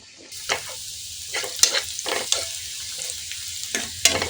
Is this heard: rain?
no